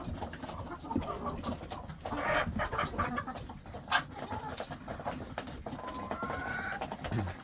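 Chickens and duck hens at feeding time in a backyard coop give scattered clucks and short calls, fairly faint, over rustling and shuffling noise, with no talking.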